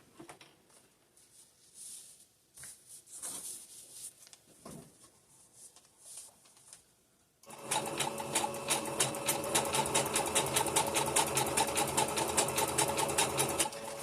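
A sewing machine zigzag-stitches bandana face-mask fabric, with quiet handling and fabric rustles first and then a loud, rapid, steady mechanical chatter of stitching for the second half.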